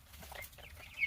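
Chickens cluck softly nearby in a brief burst, with low background rumble.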